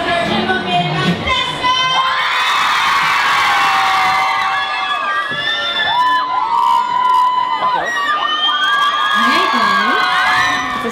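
Large crowd at a live concert cheering, whooping and shouting loudly and continuously, with excited high-pitched screams rising above a dense wall of noise throughout.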